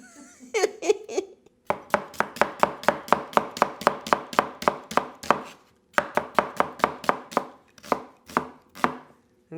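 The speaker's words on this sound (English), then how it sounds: "you just want to finely slice this onion" A knife finely slicing an onion on a cutting board, with a quick run of steady rhythmic chops, a short pause, then more chopping that slows toward the end, close and clear with no talking.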